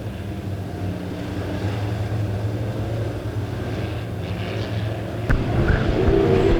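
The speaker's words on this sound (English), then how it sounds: "here comes heat race number 3 pulling out onto the racetrack" Midwest modified race cars pull onto the track for a heat race at Springfield Raceway, a loud, steady engine drone at a distance that swells slightly toward the end.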